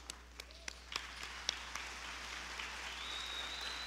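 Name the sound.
audience applause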